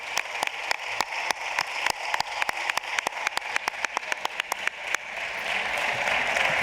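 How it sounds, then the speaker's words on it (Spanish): At the Semana Negra literary festival, an audience gives strong applause for the speakers: close, rhythmic claps that start out sharp and distinct, then merge into a fuller wash of clapping. "darte las gracias como hacemos en la Semana Negra por venir, con este fuerte aplauso"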